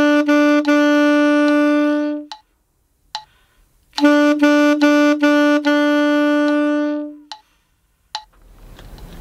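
A saxophone plays a cut-time rhythm pattern, two phrases of repeated short tongued notes leading into a long sustained tone, close and loud with a brief pause between phrases.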